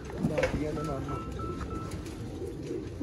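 Pigeons of a dub breed coo softly on a rooftop loft in Haripur, Hazara, under a faint background voice and low outdoor rumble.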